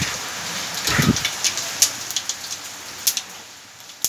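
Whole cumin and mustard seeds sizzle and crackle in hot oil left from frying vadas, a dense hiss with scattered sharp pops, alone without talk.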